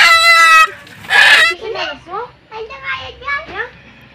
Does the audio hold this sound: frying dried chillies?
no